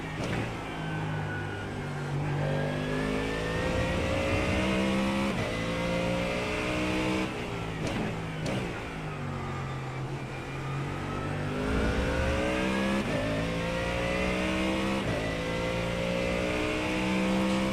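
A McLaren GT race car with zero downforce in the iRacing sim, its engine revving loud and close through repeated upshifts and downshifts, the pitch climbing and falling steadily without talk.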